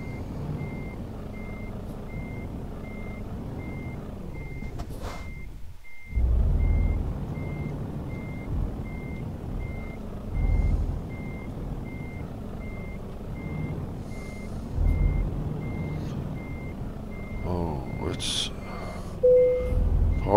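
Reversing beeps from a heavy truck parking in Euro Truck Simulator 2, steady rhythmic pulses under the low drone of the engine and a brief air-brake hiss, with someone talking at times.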